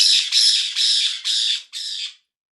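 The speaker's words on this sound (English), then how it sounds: "3 other birds in the background screaming for attention" Parrots scream for attention in the background: five harsh, loud squawks come in quick succession, each lasting about half a second, then stop.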